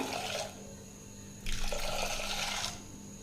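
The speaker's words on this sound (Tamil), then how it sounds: "பருப்பு வேகிறதுக்கு இதில் ஒரு ஒன்றரை டம்ளர் தண்ணி சேர்த்திக்கலாங்க" Water is poured over washed lentils in a cooking pot, about one and a half tumblers' worth. A short splash comes first, then a longer, fuller pour, both close and moderately quiet.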